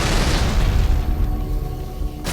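Artillery strike explosions in Halo: Reach, a dense, booming roar of blasts that rumbles heavily in the low end and slowly fades over a couple of seconds, with no voices.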